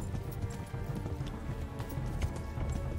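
Horse hooves gallop in a steady, loud clip-clop rhythm inside the video game Kingdom Come Deliverance, with a faint whinny in the mix and no speech over it.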